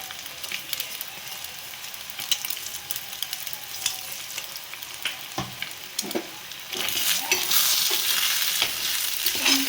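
An egg and potato mixture seasoned with chilli powder and salt being stirred in a hot frying pan, busy scraping and tapping over a continuous sizzle that grows louder and brighter toward the end, close up and without talk.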